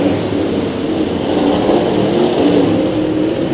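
Race cars roar around the dirt track at Santa Maria Raceway during a Nationals heat race. The engines make a loud, continuous, dense rumble that swells slightly as the pack runs on, with no clear gaps.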